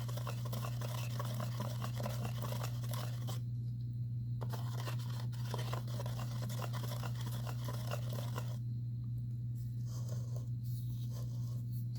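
Whisk stirring a mixture of epoxy resin in a container, a steady close scraping and swishing in repeated bursts with short pauses between, alone without talk over a constant low hum.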